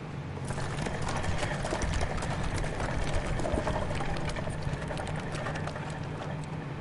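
A horse-drawn carriage in the video game Bloodborne, with a loud, dense, continuous clatter of hooves and rolling noise that holds steady throughout.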